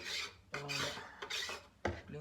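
A chopping board is cleaned in a home kitchen with several quick, rasping scrape strokes in uneven bursts, close and fairly quiet, with no talk.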